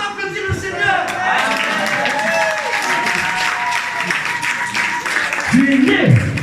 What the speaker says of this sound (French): N'est-ce qu'on peut applaudir le Seigneur?